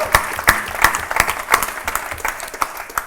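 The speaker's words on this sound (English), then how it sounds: "Let's give Mike a round of applause" Audience at a live Q&A event with Gary Vaynerchuk in London applauding together, sharp claps in dense bursts with a few louder peaks, filling the room throughout with no talk over it.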